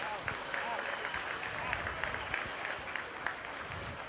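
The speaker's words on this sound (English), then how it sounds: "Let's give all of these young people a great round of applause" Audience at a 4-H and FFA market hog show at a county fair applauding, a steady wash of clapping from a crowd lasting the whole stretch, with a voice heard over it.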